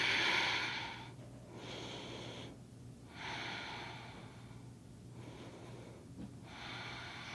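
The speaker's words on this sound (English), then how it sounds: "Big breath out." A slow, deep exhale through the nose during a yoga session, soft and close, followed by several quieter breaths with gentle pauses between them.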